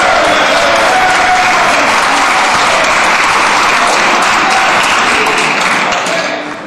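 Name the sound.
applause and standing ovation in the House of Commons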